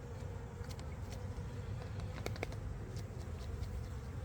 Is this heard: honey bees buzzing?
yes